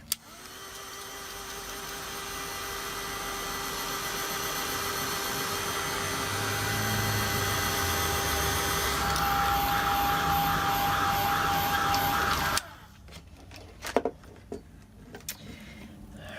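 A heat tool or dryer blows in a steady, loud, close whine for about twelve seconds while drying a handmade card, then cuts off abruptly, leaving quiet room noise and a few light handling knocks.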